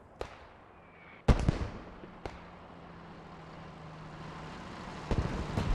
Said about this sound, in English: As that 6-pounder and mortars are both pounding the cap here.